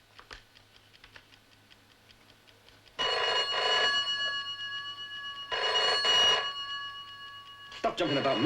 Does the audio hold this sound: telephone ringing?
yes